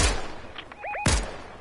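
Short burst of video game gunfire on a PS4, a few sharp shots clustered together and then a louder blast, close and alone with no talk over it.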